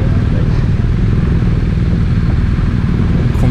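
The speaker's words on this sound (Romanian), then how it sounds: "Cum se aude motorașul ăsta de tractoraș, așa, cum vibrează el." A BMW R1250R boxer-twin naked roadster, 2023 model, idling or running on a track, a steady loud low rumble with a constant vibrating throb and no voices over it.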